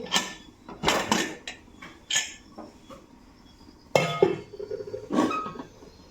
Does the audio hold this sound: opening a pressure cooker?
yes